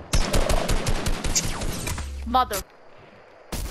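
Rapid bursts of video-game gunfire crackle loud and close for about two seconds, with a player's voice breaking in over it, then a short silence before another burst.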